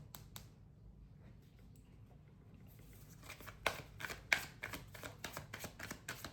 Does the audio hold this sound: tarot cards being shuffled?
yes